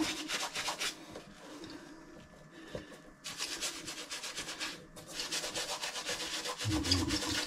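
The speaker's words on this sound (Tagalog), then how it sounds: "linisin natin yan para matanggal yung mga itim-itim" A shoe sole being scrubbed clean of black grime, heard as close rhythmic brushing strokes in bursts with short pauses between, fairly quiet and with no talking.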